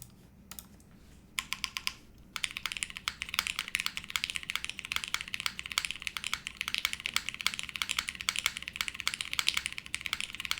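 A mechanical keyboard with lubed switches is typed on steadily and close up, the rapid keystrokes running continuously with no voice over them.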